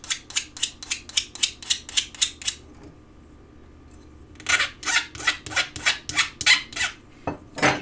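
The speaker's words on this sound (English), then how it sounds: "I'm filing at a slight angle just to give it a little bit of a bevel." A hand file rasps across a metal edge at a slight angle to form a bevel, giving a quick run of about ten even strokes, then a pause, then another fast steady series, close and crisp with no talk.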